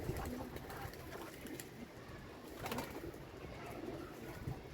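Soft low cooing of pigeons, repeated murmurs buried in a dense, noisy background with faint rustling and handling sounds.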